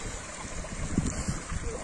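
Water flows steadily from a mountain spring in Ağbulaq village in Azerbaijan's Lachin district, a continuous close rushing wash with a brief voice sound partway through.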